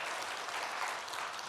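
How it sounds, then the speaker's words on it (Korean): A church congregation claps together during a Sunday morning worship service, a steady, even patter of many hands at moderate distance with no voices. "우리 영광의 박수 올려드릴까요?"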